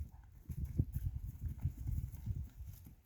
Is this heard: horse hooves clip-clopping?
yes